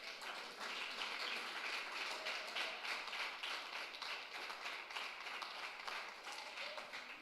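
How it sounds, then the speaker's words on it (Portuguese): A church congregation at an evening service applauds, a dense, sustained round of clapping from many hands that holds steady throughout without voices. "dá uma salva de palmas para Jesus"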